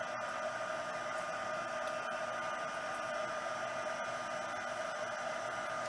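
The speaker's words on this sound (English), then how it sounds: "we're gonna heat this up and you're gonna see it melts really quickly. So I'm using my heat tool." A crafting heat tool blows continuously while melting heat and stick powder, a steady, even whooshing drone with no breaks from start to finish.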